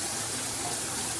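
A Voolan high-pressure rain shower head with its flow restrictors removed sprays a narrow stream of water in a steady, close, even hiss.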